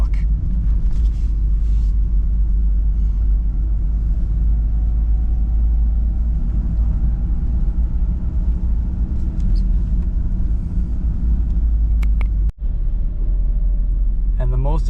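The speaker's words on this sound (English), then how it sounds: "so we're going to clutch in, a little bit of gas, 3rd gear." A manual stick-shift car engine hums with a steady low rumble as the clutch goes in and the driver shifts into third gear, with a brief dip near the end.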